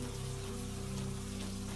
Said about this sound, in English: the rain continues its steady, whispering rhythm above you